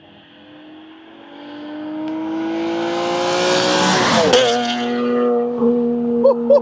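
A Nissan 370Z with equal-length headers and valved exhaust drives past, its engine note climbing from distant to a loud, raspy peak as it passes close by, then dropping away.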